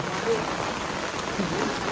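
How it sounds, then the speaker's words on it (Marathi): Heavy rain pours steadily, a dense continuous hiss of drops on surfaces that stays even throughout with no breaks. "पाऊस पडतोय लय जोरात"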